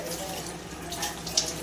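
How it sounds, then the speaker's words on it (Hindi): Water from a tap pours steadily into a cooking pot of kidney bean curry in a home kitchen, a soft, continuous splashing rush with a brief slosh near the end. "तो अब मैं इसमें पानी डाल रही हूँ।"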